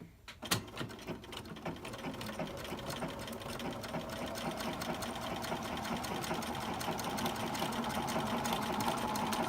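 Sewing machine stitching a back-and-forth stem stitch on a quilt block, a steady rapid mechanical whir and clatter that starts up and keeps going evenly throughout, close and alone.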